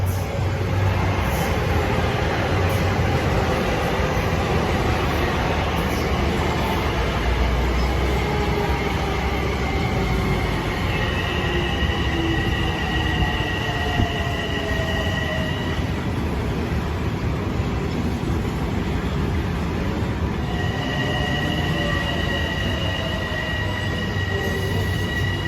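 LIRR commuter train passing through Westbury station during the evening rush on triple track, a loud, sustained rumble of rolling cars with repeated high wheel squeals and faint clicking, continuous and close.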